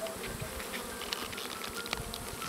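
Honey bees buzzing around an opened beehive during honey harvest, a close, continuous droning hum with individual bees whining past the microphone now and then, heard alone without any talking.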